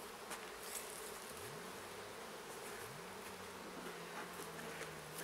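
Honeybees hum steadily inside an opened divisible hive that went unfed all winter, a continuous close buzz with a few individual bees rising in pitch as they fly near.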